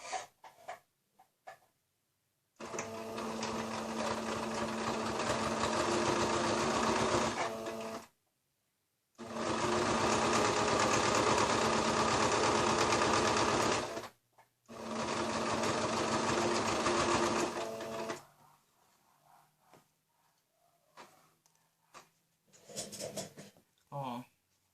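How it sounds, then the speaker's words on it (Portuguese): Sewing machine stitching strips of patchwork fabric, running in three long steady whirring bursts separated by short pauses, followed by quieter handling noises and clicks. "E vamos costurar."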